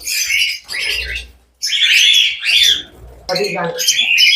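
Caged lovebirds and cockatiels at a bird farm give loud, continuous squawks and chirps in overlapping bursts, close by and filling the space with only brief pauses.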